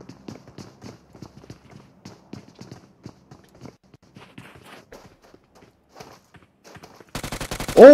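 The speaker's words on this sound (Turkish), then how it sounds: "şimdi mermiler gönderilmeye başlandı Upward tarafından" Rapid automatic gunfire bursts erupt near the end of an esports league match broadcast, following a stretch of scattered footsteps and small clicks; the shots come in a tight, loud, evenly spaced string.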